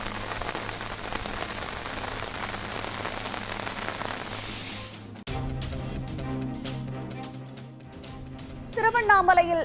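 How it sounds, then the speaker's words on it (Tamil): Heavy rain pours steadily in the Kodagu and Dakshina Kannada region, a dense continuous hiss that cuts off midway before a different scene with music and a voice takes over. "குடகு, தட்சிண கன்னடா உள்ளிட்ட பகுதிகளில் தொடரும் கனமழை"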